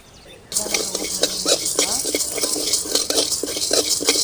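Chana dal, urad dal and fenugreek seeds frying and being stirred in a hot pan, a steady bright sizzle with scraping stir strokes, close and continuous after a quiet start, with a voice faintly underneath.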